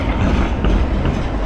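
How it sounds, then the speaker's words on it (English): A Blackpool tram rumbles loudly past on the busy promenade, a continuous close clatter of wheels with faint ringing tones that may be its bell, and no talking. "that tram's ringing the bell for fun"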